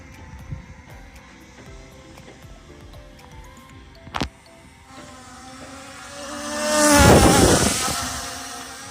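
An E99 Pro brushless camera drone whines with a buzzing, insect-like motor drone that rises and swells loudly near the end as it flips close by; a sharp knock sounds midway.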